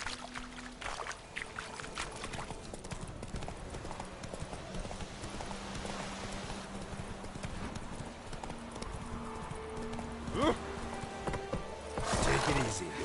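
Hooves of a horse in The Witcher 3 clip-clop in a steady walking rhythm, mid-distance, with a brief whinny near the end and a voice speaking over the game's ambient sound.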